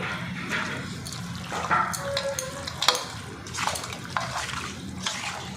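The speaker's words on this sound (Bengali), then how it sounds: "এবারে আমি হাত দিয়ে ভালো করে মাংসটা মাখিয়ে নেব" Raw meat squelching and slapping as it is hand-mixed with mustard oil and marinade in a bowl, a close, continuous wet mashing with irregular squishes and a few sharper splats, no talking.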